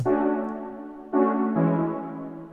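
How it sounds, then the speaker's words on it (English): A sustained, harmonically rich indie-pop synth pad chord washed in reverb, shifting to a new chord twice, each change blooming loudly then slowly decaying. "So I threw on this reverb, made the pad sound like this."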